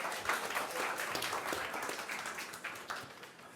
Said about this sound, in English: Please applause for him.